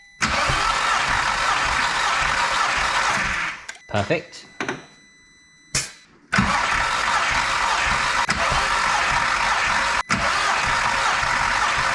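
A Volkswagen Caddy 20V turbo engine cranks over with its spark plugs out, a loud continuous churning that breaks off in a brief gap before cranking resumes, with a short spoken word near the end.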